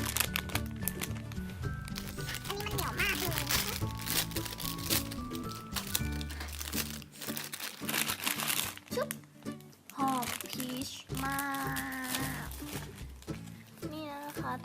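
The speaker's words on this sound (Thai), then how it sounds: "โอเคเดี๋ยวเรามาแกะกันเลยนะ" Plastic packaging is peeled and crinkled from a medium pink Peach Eye Bloom squishy toy, with loud crackling and crunching in bursts up close while someone talks over it.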